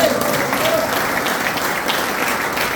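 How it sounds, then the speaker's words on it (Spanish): Church congregation applauding the pastor at a Spanish-language conference, steady, loud clapping from a crowd that fills the whole moment, with faint voices mixed in. "¿Cuánto dan un aplauso al pastor?"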